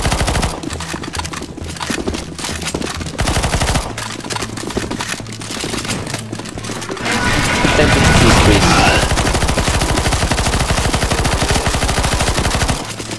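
Sustained automatic gunfire in CS:GO Zombies as players shoot NPCs, loud dense rattling bursts that continue throughout and intensify midway, with overlapping shots and game effects.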